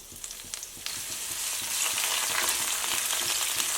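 Carrots are stir-fried in hot oil that was first used to fry dried chilies, Sichuan peppercorns and garlic. A loud, steady sizzle builds and holds, with soft scraping from the stirring underneath.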